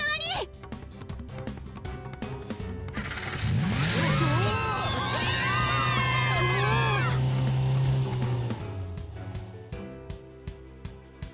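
A car engine in the game Persona 5 Strikers revs up and whines through rising and falling pitch sweeps, loud and sustained for several seconds, with music and game sounds around it.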